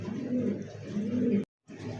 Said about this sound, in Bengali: এই মুহূর্তে দেখতে পাচ্ছেন একজোড়া শার্টিন কবুতর, ব্লু শার্টিন